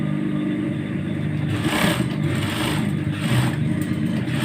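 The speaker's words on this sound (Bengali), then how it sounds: "একসঙ্গে করে এই যে সেলাই দেবো" A sewing machine stitches baby shorts with a steady, close motor whir and rapid needle clatter that swells slightly midway, with no talk.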